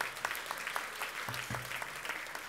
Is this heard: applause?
yes